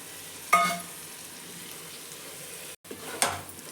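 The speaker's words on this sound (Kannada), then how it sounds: "ಇದು ಸ್ವಲ್ಪ ಫ್ರೈ ಆಗಬೇಕು." Crab leg meat frying in garam masala for crab biryani, a steady soft sizzle with two brief clattering stirs.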